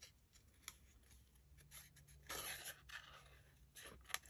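Quiet snipping and rustling of scissors working through paper, close by and soft, with small crisp cuts and a slightly louder scrape midway.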